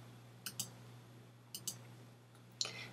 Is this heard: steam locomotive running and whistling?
no